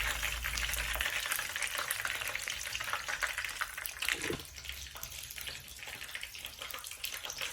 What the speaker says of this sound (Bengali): আর এটাকে আমি ক্রিস্পি করে ভেজে নিচ্ছি এখন